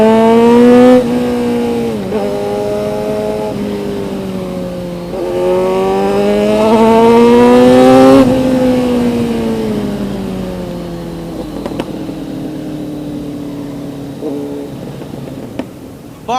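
A Kawasaki Z900 motorcycle fitted with an SC Project exhaust revs loudly and up close, its pitch rising and falling through repeated throttle blips with a sustained high rev near the middle and no talking.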